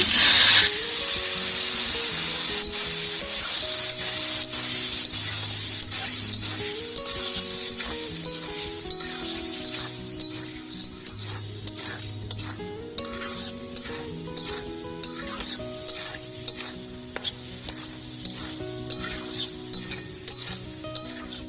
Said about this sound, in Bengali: জল দিয়ে মশলাটা কষে নেব